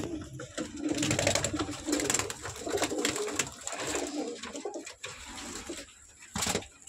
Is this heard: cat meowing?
no